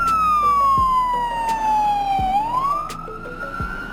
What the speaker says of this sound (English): Learn police vehicle name and sounds. Police utility vehicle.